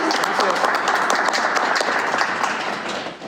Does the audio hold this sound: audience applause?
yes